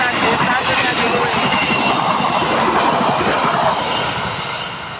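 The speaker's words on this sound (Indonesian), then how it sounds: "Kereta api berantas melintas di stasiun Ngadiluwe." Brantas train passing through Ngadiluwih station, a loud close rush of rolling wagons with steady clatter that begins to fade near the end, with some talk.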